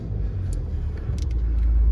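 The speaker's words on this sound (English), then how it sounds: "Just start the car up. It's absolutely quiet, absolutely sounds lovely." A Jaguar XE 2.0 diesel R-Sport sits running at idle with a steady, quiet low rumble, close and even throughout.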